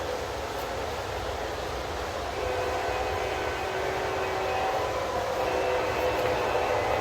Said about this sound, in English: Okay, we got a train coming up behind us.